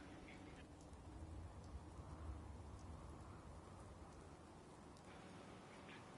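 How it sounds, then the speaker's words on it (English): Rain falls steadily in the video game Fallout 4, an even, quiet hiss with a low rumble underneath and no talking. "Oh, it's raining."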